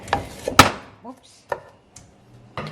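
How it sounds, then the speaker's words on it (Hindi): Peeled potatoes being chopped with a knife on a board: a few sharp, separate chops with pauses between them, close and fairly loud in a quiet kitchen. "चलो ये होता रहेगा जब तक हम आलू छील लेते हैं, आलू छील के काट लेते हैं।"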